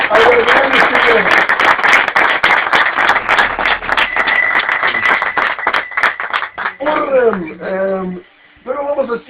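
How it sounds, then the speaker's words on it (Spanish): Loud, dense applause for Marie Curie from a live audience at a weekly show, steady clapping through most of the stretch, then thinning out as voices talk over the final seconds. "pido un aplauso, como hacemos cada semana, a la gran señora"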